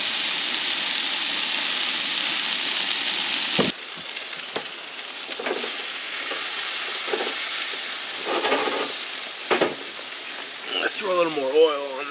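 Food fries in oil in a pan while vanlifing on the Blue River, a loud steady sizzle that drops sharply partway through to a softer crackle with scattered pops and clinks, and a voice briefly at the end.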